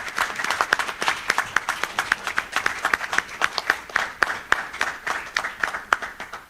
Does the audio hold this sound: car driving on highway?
no